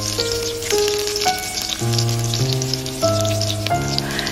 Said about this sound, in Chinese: 油热之后把大蒜加进来，先炒一下，炒出香味。